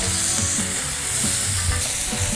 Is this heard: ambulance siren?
no